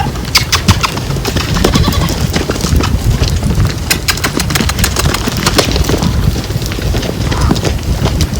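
Pony loping in an arena under a rider, a quick rhythmic run of hoof beats close by with rustling and light wind noise throughout.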